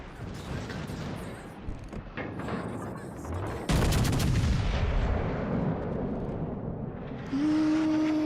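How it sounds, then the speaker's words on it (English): Airstrikes exploding in the naval battle game World of Warships: Legends: dense rumbling blasts and booming impacts, one strong burst midway, with continuous loud battle noise and a rising mechanical tone near the end. "Airstrikes."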